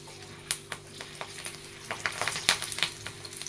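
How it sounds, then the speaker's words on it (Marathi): Green chillies, slit down the middle, frying in hot oil, a crackling sizzle punctuated by sharp spitting pops and stirring taps that grow busier toward the end. "हे बघा मिरची तळूया असं, त्याच्यासोबत खायला मिरची."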